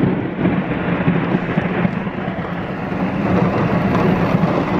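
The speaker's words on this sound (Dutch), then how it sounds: "Dat was echt een vet grote bliksemschicht." Heavy thunder rolls on in a long, loud rumble after a big lightning strike in an Amsterdam downpour, mixed with the steady hiss of rain and no talking.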